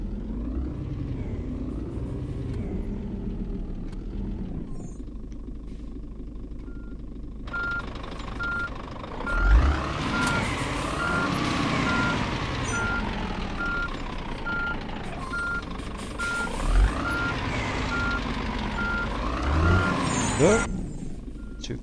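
In a truck simulator game, a truck's evenly spaced reversing beeps run for several seconds over a low diesel rumble, with engine surges and air-brake hisses around them, and someone talking at times.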